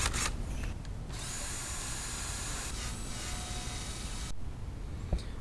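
A power drill fitted with a wire brush grinds rust and paint off metal parts of a kayak trailer, a steady loud abrasive whir running nearly continuously, with brief pauses where the tool lets up.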